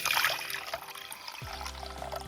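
About one and a half cups of warm water are poured into a bowl for pizza dough. The pour is a short splashing trickle that settles into a steadier stream, close and fairly loud.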